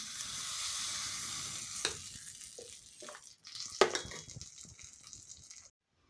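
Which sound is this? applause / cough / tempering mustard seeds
tempering mustard seeds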